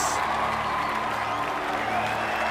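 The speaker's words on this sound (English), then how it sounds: "For Gregoire of Mount Gorgon, let out a roaring cheer." A roaring crowd cheers and applauds at a knightly tournament in The Witcher 3: Wild Hunt, Blood and Wine, a dense, steady wash of many voices sustained throughout.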